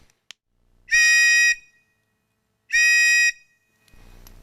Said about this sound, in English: we have the British type marine whistle, which is very effective because of the duo tones